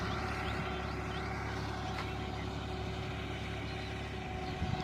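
Close by in a farm field, a tractor engine labours evenly while towing a laser leveler, an unbroken rumbling hum with slight rattling on top.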